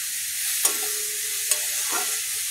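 Food sizzles in a frying pan as a utensil stirs it, a steady close hiss broken by two sharp metallic scrapes and a softer third, with no one talking.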